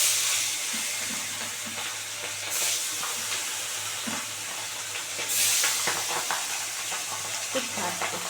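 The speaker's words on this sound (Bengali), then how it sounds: "খুব ভাজছে" Fish pieces fry in hot oil for a fish kalia, making a continuous loud sizzle and crackle up close, with a few spatters and light utensil knocks and no talking.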